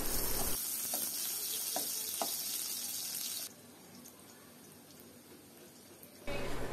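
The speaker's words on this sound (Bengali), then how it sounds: "এখন একটি কড়াইয়ে আবারও তেল দিয়ে দিচ্ছি, দিয়ে দিচ্ছি পেঁয়াজ কুচি," Chopped onion and chilli fry in oil in a wok, giving a constant close sizzle with stirring scrapes and a short quieter stretch near the end.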